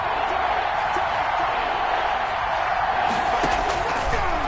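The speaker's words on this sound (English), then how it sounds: "the crowd getting into it as we come up on a big 3rd down" A football stadium crowd roars steadily ahead of a big third down in an NFL Texans game, a loud, continuous wash of cheering and shouting that holds at an even level throughout.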